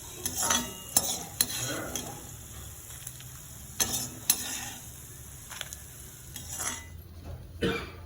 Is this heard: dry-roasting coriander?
yes